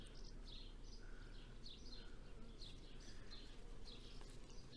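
A dense hum of young Carniolan honey bees (Carnica Singer line C64) buzzes continuously at close range, with birds chirping faintly in the background.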